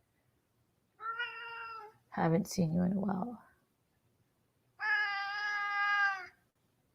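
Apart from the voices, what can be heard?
cat meowing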